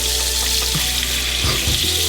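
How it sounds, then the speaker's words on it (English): Butter melting and sizzling in a pot on the stove for a seafood gumbo, a steady close frying hiss with a few soft stirring knocks. "add another 4 tablespoons of butter. Go ahead and melt that in there."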